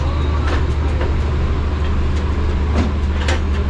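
A railway train runs steadily past with a continuous low rumble and repeated rattling clatter from the cars, loud and close, with no speech over it.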